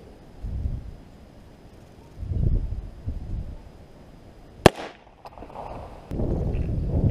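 A single sharp, loud handgun shot at outdoor target practice cracks out suddenly after stretches of wind buffeting and rustling, then quick rustling follows.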